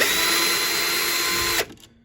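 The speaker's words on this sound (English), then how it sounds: "you can use a screwdriver or drill, and you just put it in there" A power drill whirs steadily while backing out a wall light switch's mounting screw, a close, loud, continuous motor drone that cuts off abruptly near the end, no talking.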